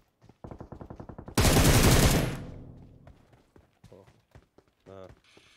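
Rapid automatic gunfire rattles in a multiplayer shooter game, a quick burst of shots followed by a loud sustained blast that fades out, then scattered sharper reports and clicks.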